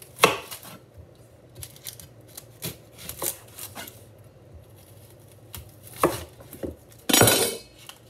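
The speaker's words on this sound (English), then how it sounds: "Cut up the onion." An onion being cut up with a knife on a cutting board, irregular sharp chops and taps spaced apart, close and alone, ending in a short rustling scrape.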